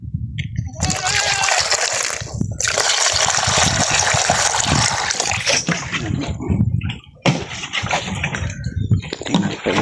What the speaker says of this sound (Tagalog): Lagyan natin ng tubig itong inuman ng kambing.